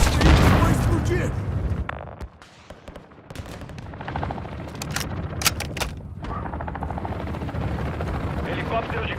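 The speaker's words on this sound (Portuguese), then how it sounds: "Helicóptero de carga a caminho da AO." A cargo helicopter thundering through a Call of Duty battle, its loud rotor roar mixed with bursts of gunfire and explosions, with voices heard over the din.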